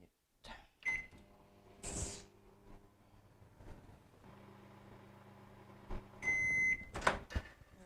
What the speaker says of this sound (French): je vais travailler comme au début au maximum de mon micro-ondes ici, qui est de 900 watts